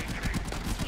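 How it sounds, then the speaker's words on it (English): Enemy gunfire in the shooter game Warframe, a dense stretch of rapid overlapping shots and bursts, loud and continuous throughout. "though I have a few guys shooting at me"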